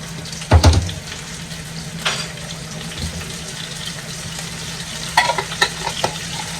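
Garlic stirred in hot olive oil in a pan, with a few sharp scraping clatters of the utensil over a continuous soft sizzle, and no voices.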